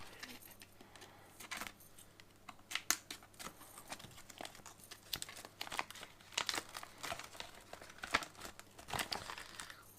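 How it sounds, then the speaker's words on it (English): A knife cuts open a plastic MRE packet close by, with crisp crinkling, rustling and tearing of the plastic in quick irregular bursts. "It doesn't seem to, so I'm going to cut it with my knife."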